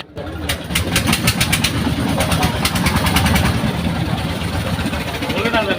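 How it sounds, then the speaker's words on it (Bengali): A boat's engine putters steadily close by after the boatman starts it for the trip to the Sada Pathor spot, a loud continuous chugging throb with a faint rapid ticking on top, while someone talks over it. "নৌকার ইঞ্জিনের ভটভট শব্দটা একটু বিরক্তিকর"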